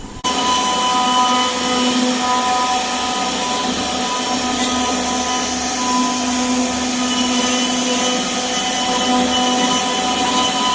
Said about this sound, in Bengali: কাঠের উপর ডিজাইন করা বাদে বাকি অংশগুলোকে কেটে বাদ দিয়ে দেওয়া হচ্ছে